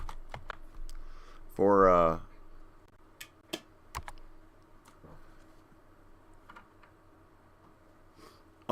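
Keys on a computer keyboard tapped at a slow, scattered pace while playing the 1983 Infocom text adventure Planetfall, close and moderately loud, with a short spoken word partway through.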